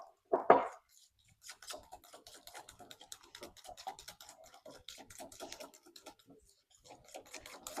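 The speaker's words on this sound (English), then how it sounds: "Maybe I'll do that with a little whisk to make it beat together better." A small whisk beats batter in a bowl, making quiet, rapid, irregular clicking and tapping against the bowl after one louder knock at the start.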